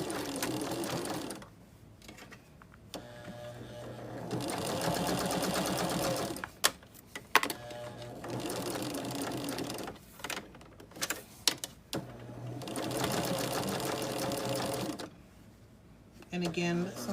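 A domestic sewing machine stitches rows of a charity quilt in several sustained whirring runs separated by pauses, with a few clicks and clunks in between, close by while someone talks over parts of it.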